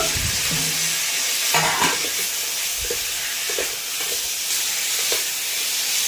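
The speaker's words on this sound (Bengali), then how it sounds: "এবার আমি এটাকে একটু কষে নিই। পটল একসঙ্গে কষে নেব।" Pointed gourd and potato sautéing in a pan give a steady close sizzle and hiss, with a few scraping stirs of a spoon along the way and no talking.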